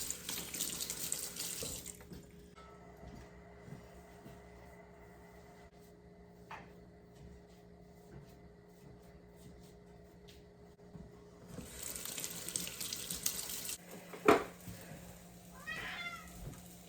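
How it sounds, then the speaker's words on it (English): A kitchen tap runs as hands are washed under it, coming in two loud splashing bursts separated by a quiet pause, with a cat meowing briefly near the end. "Wash my hands."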